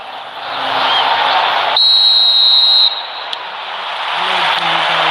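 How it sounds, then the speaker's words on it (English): A referee whistle in an eFootball match, a shrill held tone over steady stadium crowd noise, followed by a short second blast. "Whistle goes, and we start the second half."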